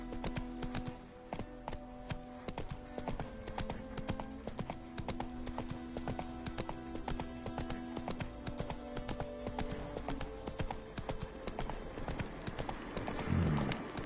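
Roach the horse galloping in The Witcher 3, hooves clip-clopping in a steady rhythmic beat throughout, close and clear, with a steady tonal hum behind and a brief bump of other noise near the end.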